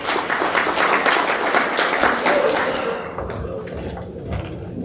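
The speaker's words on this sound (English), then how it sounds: "let's put our hands together and welcome Mr. Brent Barnhart to the stage, you guys." An audience gives a keynote speaker at a corporate credit event a dense round of applause that stays strong for about three seconds and then tapers into scattered claps.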